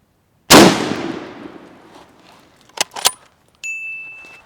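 A single loud, close WWII-era rifle shot cracks out and rings off into a decaying tail on a firing range during a qualification test, followed by brief metallic clicks and handling sounds.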